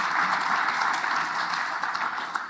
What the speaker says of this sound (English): FARA, its leadership and management deserve a round of applause